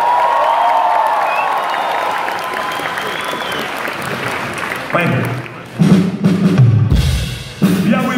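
Concert crowd applauds and cheers for the drummer at a show in Saratov, a broad sustained wash of clapping with a voice over it, then loud drum and music hits cutting in near the end.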